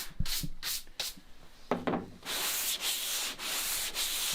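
A door panel is sanded by hand in preparation for carbon fiber parts, with short rhythmic rasping strokes followed by longer, steadier rubbing passes, close and without talk.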